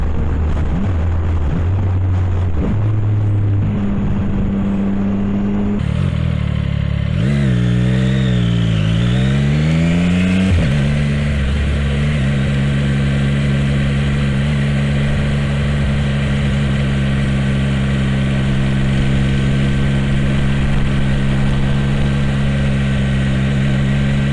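A 675SR-R motorcycle engine accelerating through the gears with a quickshifter, loud and steady, pitch climbing then dropping at each shift, heard close throughout.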